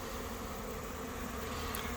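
A fall honeybee swarm hums with a steady, faint, continuous buzz, even in level and without breaks.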